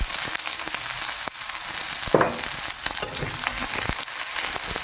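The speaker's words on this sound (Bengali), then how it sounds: "জিরে দেওয়ার পরে এখন পেঁয়াজ কুচিগুলো ছেড়ে দেবো।" Chopped onions fry in hot oil with cumin seeds, a continuous crackling sizzle heard close, with a louder burst and a few stirring clicks partway through and no talking.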